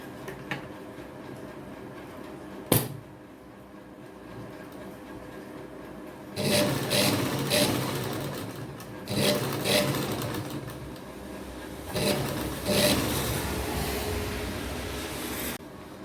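A sewing machine stitching lace onto a shirt neckline runs in several short bursts, a steady close whirring hum with pauses between runs and a sharp knock near the start.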